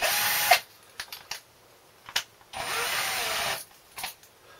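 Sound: spring-loaded cylinder hone spinning in a drill

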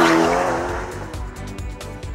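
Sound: Ferrari Lusso twin-turbo V8 engine driving

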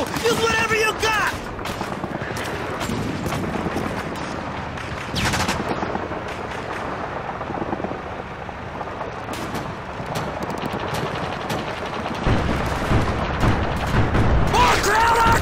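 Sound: artillery barrage and gunfire in the video game Call of Duty 2

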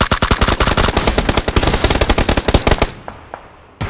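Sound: gunfire in the video game PUBG

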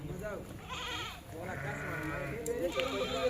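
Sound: goats bleating

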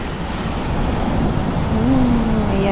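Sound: ocean waves at a Florida beach

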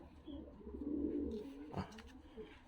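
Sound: young racing pigeons in a loft

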